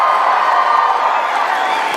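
A large crowd at a Turning Point USA convention speech cheers and applauds loudly, a dense wash of clapping and shouting.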